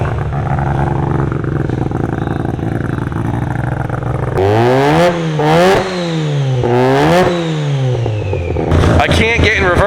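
A Mazda RX7 engine running on a first drive, loud and close, idling roughly and then revving repeatedly in rising and falling sweeps with clattering, loud throughout.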